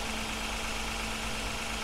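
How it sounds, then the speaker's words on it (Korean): A 2018 Genesis EQ900 3.8 AWD sedan idling with the hood open, a steady close engine hum with a constant low tone and an even, unbroken drone. "엔진룸 소리 한번 들어보려고 저희가 지금 엔진룸을 개폐를 했고요"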